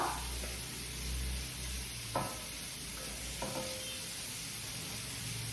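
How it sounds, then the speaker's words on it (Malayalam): Small shallots being sautéed in a pan, giving a steady soft sizzle and frying hiss with a few brief stirring scrapes, heard close and alone without speech. "ഇനി ഈ ഉള്ളി നമുക്ക് വഴറ്റിയിട്ട് കൊണ്ടുവരേ"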